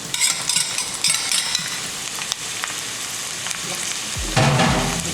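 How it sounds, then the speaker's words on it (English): Garlic, onions and tomato frying in hot oil give a steady, close crackling sizzle with stirring scrapes, and the sizzle flares louder near the end as more goes into the pan. "the oil is hot. I'm gonna put the garlic and the onions and the tomato"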